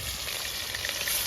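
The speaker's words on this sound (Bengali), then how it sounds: "রান্না হচ্ছে মাছ ফ্রাই" Fish frying in oil gives off a steady, fine crackling hiss that holds at a moderate level throughout, with no voices.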